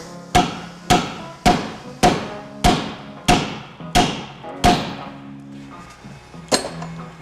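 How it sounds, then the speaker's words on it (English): Hammer blows against a car's upper control arm during suspension work on a Dodge Challenger Hellcat, roughly eight sharp, loud metallic strikes at a steady pace, then one final hit after a short pause. "then I hit it with a hammer"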